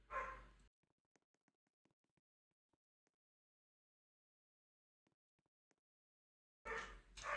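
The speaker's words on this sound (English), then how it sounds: "my dog is going insane" A pet dog barks indoors in two loud, close bursts, one at the start and one at the end, with near silence and faint clicks in between.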